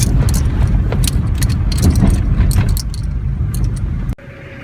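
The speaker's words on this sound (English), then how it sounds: "There's the delivery truck." A delivery truck pulls up outside a cabin, its steady engine rumble close and continuous with scattered clicks and rattles, then cutting off abruptly near the end to a quieter hum.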